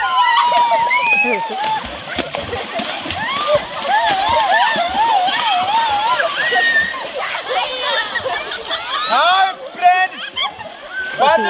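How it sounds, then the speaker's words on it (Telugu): Water splashes and rushes at the Uppalamadugu waterfall, a constant wash of spray sitting under loud, nearly continuous chatter and voices of people enjoying the falls. "వాటర్ ఫాల్స్ మేమైతే వచ్చాం ఉప్పలమడికి"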